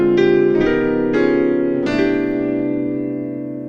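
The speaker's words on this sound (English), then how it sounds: "let's just jump into the first warm and cozy Christmas intro" Warm jazz piano Christmas intro built on upper structure chords: several rolled chords enter one after another, each ringing and overlapping, then a final chord sustains and slowly fades, close and solo.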